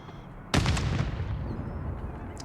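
A frag grenade goes off in a competitive video game match, one sudden loud blast followed by a rumbling decay, with faint commentary beneath the game sound.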